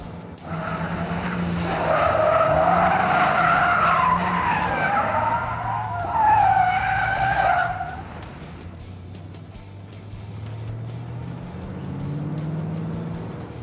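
A Ford Mustang does a burnout, tires squealing in long, wavering screeches over a revving engine for several seconds, then the squeal drops away, leaving a steady engine rumble.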